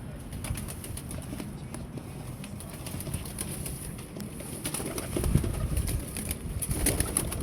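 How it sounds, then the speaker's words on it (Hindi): Teddy pigeons, a male with a female alongside, give soft cooing and some wing flapping nearby against a low rustling background, with no one talking. "ये माशाल्लाह टैडी कबूतर है, चौका है।"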